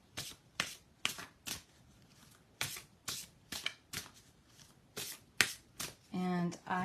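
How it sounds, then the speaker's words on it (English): Tarot cards being shuffled by hand before a card is drawn, a run of crisp riffling bursts at a steady uneven rhythm, close and fairly loud, followed by a brief voice at the end. "we're going to pull a card from here"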